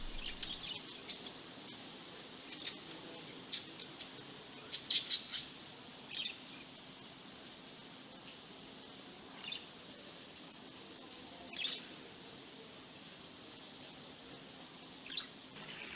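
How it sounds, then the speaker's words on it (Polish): Songbirds kept in cages at the Gliwice palm house chirp in scattered short calls and brief trills, fairly faint against a steady hum of indoor ambience, with quiet gaps between bursts. "W palmiarni było wiele miejsc z ławkami, obok których często stały klatki z ptakami. Wtedy można było przysłuchiwać się pięknym ptasim śpiewom."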